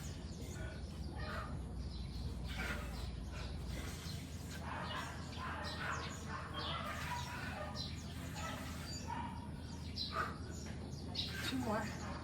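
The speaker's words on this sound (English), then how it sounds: "I hear all the birds chirping." Birds chirping and calling outdoors, several overlapping tweets and squawks throughout, with steady background noise and a person speaking at times.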